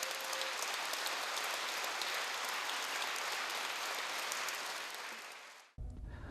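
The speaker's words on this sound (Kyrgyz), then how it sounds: "Ушул Наргиза кызыбызга жакшылап туруп бир кол чаап коюңуздар" A hall audience gives warm, dense applause for the composer and cellist Nargiza, an even roar of clapping that fades slightly and then cuts off abruptly.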